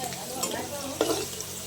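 Lightly fried potatoes are lifted out of hot cooking oil, giving a soft sizzle with a few scraping and stirring knocks from a utensil, close and moderately loud, with no voices.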